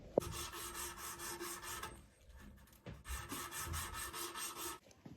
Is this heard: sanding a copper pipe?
yes